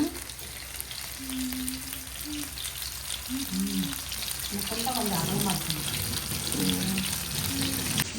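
Parrotfish pieces frying in a pan, a steady close sizzle and crackle running throughout with occasional stirring, while people talk over it.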